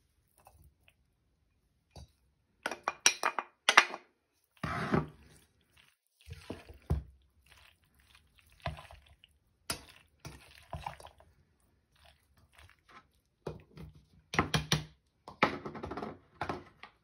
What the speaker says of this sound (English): You're mixing really nicely.